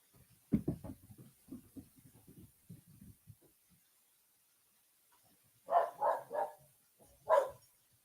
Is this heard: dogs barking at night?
yes